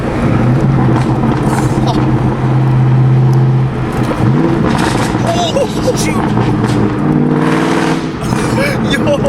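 A loud straight-piped 2003 Cobra exhaust revs and burbles with crackling pops, engine pitch rising and falling, while people talk excitedly over it.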